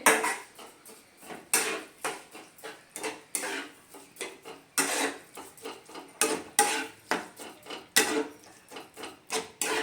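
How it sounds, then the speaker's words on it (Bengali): A spoon scrapes and knocks against a pan while papaya is stirred with sugar for chutney, giving a run of regular rhythmic strokes and taps close to the microphone. "চিনিটা ভালোভাবে পেঁপের সঙ্গে আমি মিশিয়ে নেব।"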